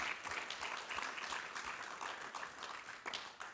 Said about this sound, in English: let's have a very well-deserved round of applause